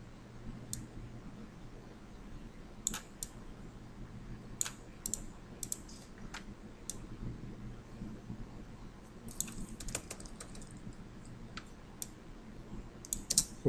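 Keyboard shortcut keys on a computer click faintly in scattered taps and small clusters over a quiet room hum, with gaps between presses and no talking.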